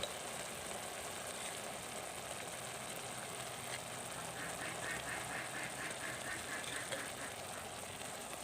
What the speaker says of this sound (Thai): เสียงเป็ดกราบๆเนี่ย